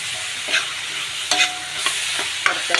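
Onions with salt fry in a pan, a steady broadband sizzle broken by a few sharp scraping stirs, close and fairly loud, with no voices.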